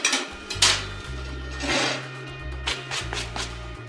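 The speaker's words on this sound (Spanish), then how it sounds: "cuando nosotros retiramos la escoria se remueve fácilmente" Slag chipped off a weld bead from a Blue Box TIG/MMA-200 welder using a common 6011 electrode, several scraping and knocking strikes in uneven bursts over a steady low mains hum, close and without talk.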